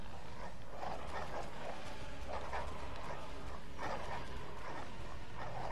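Game dogs in Bloodborne let out intermittent barks and yelps in short clusters, faint and somewhat distant beneath a continuous low ambient rumble, with no voices.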